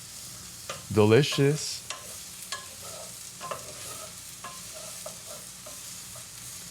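Bitter melon and eggs stir-fry in a pan with a soft, constant sizzle and scattered scraping and clacking as they are stirred; a brief spoken word comes early on.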